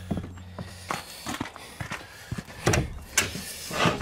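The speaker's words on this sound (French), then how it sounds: "Là, ma porte, elle coince un peu parce que c'est sûr que gèle, dégèle." A sticking greenhouse door, swollen from freezing and thawing, is forced open with a series of knocks, scrapes and rattling jolts, close and fairly loud, in uneven bursts.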